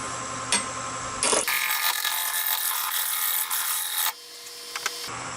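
Wood lathe turning a vase blank at about 650 RPM, a close, steady whirring rumble with faint rhythmic ticking, shifting tone briefly in the middle before settling again, no talk.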